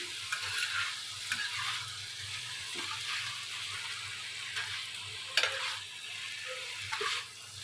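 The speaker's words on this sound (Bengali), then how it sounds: "এখন ভেন্ডিটা এবং চিংড়ি মাছটার সাথে ভালোভাবে মিশিয়ে নিই" Okra and shrimp are stirred together in a frying pan, with a quiet continuous sizzle and occasional sharp clinks of the utensil against the pan.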